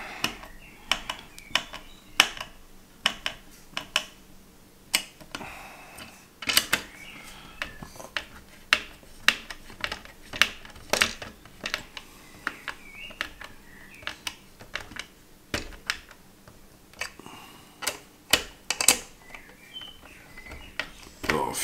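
Small plastic parts of a motorised E.T. model are fitted and screwed together by hand, giving a close, irregular string of sharp clicks, taps and ratchety snaps with quiet pauses between them.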